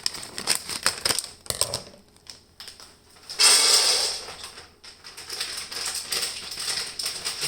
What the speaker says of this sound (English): mixed vegetables in here. Just cut them up.